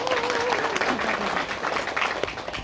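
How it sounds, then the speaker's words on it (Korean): A seminar audience at a network marketing presentation claps together in a steady wash of applause, with a voice briefly heard over it early on. "다 같이 나에게 박수 한번 치고 시작하겠습니다"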